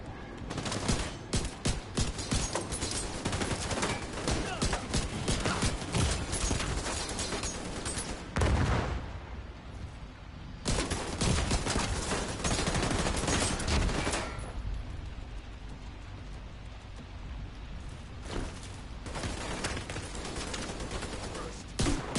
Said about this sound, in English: I need an accurate shot. This is my sniper.